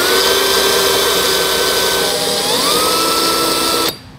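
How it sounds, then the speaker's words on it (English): A power drill bores a pilot hole into the bulkhead of a 2022 Nissan Frontier truck bed. It gives a loud, steady high whine whose pitch dips briefly, then cuts off abruptly near the end. "Making a pilot hole, just be careful not to go all the way through towards your cab."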